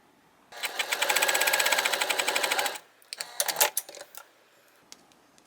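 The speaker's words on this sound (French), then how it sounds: "Je vais faire un deuxième test pour être sûr et certain que c'est vraiment beau, et ma machine à coudre me joue pas de tour." A sewing machine stitches a test seam for a transparent boxy bag, a close, loud burst of rapid rhythmic needle chatter for about two seconds, followed by a few mechanical clicks and knocks as it stops.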